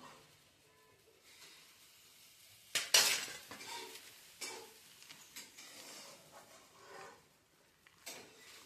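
Finely chopped ingredients for Marathi sandge batter being mixed in a vessel, with scattered soft clinks and scraping stirs, one louder clatter near the middle, no talking.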